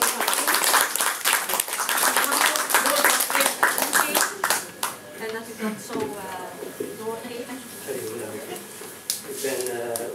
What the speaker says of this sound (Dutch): Mag ik voor alle drie een warm applaus geven?